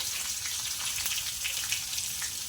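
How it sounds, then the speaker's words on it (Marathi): Finely chopped curry leaves hit hot oil already crackling with cumin and mustard seeds, a dense, steady hiss and sizzle with tiny pops, close and continuous, no voices. "आता आपण टाकूया थोडा कढीपत्ता बारीक चिरून घेतलेला आहे"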